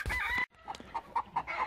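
Morgan Whitehackle rooster crowing close by, one loud cock-a-doodle-doo that breaks off, followed by a run of short rhythmic clucks.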